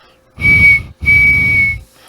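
Two loud, shrill blasts of a steam locomotive whistle, the first shorter and the second longer, separated by a brief pause.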